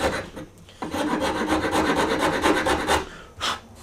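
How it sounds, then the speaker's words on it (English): A fine, small file rasps over a wooden Stratocaster guitar neck in quick, even back-and-forth strokes, close and alone, pausing briefly at the start and again near the end. "smaller file."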